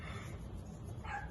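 A single faint dog bark sounds from elsewhere in a quiet indoor room.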